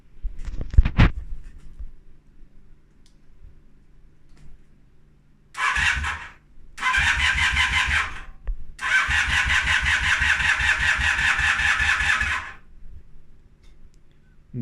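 A 1978 Honda CB250 twin motorcycle that has been sitting a long time is cranked with its starter in two short bursts, then catches and runs roughly for a few seconds before cutting out. It sounds loud and close.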